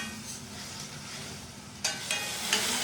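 Chicken pieces fry in hot oil in a pan for a spicy pepper chicken curry, giving a steady close sizzle and crackle with a few sharper spits and stirring bursts toward the end. No one speaks.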